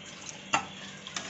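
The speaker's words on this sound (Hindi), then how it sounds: "अब हम इसमें डाल देंगे एक गिलास पानी।" A glass of water poured into fried masala for a Bengali-style tilapia fish curry, giving two brief, faint splashing sizzles about half a second apart over a quiet kitchen background.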